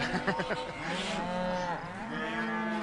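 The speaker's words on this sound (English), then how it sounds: "A lot of these cattle, they're ultimately all going to end up on your dinner table in most cases." Cattle on a Colorado ranch give a long, loud, drawn-out moo that fills the moment, with overlapping lowing behind it.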